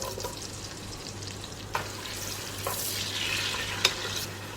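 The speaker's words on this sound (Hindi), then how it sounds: "सबसे पहले हम प्रेशर कुकर में घी डालेंगे, साथ ही हम इसके अंदर प्याज डाल देंगे।" Onions fry in hot ghee inside a pressure cooker, giving a soft, steady sizzle with occasional sharp stirring clinks and scrapes close by, and no voices.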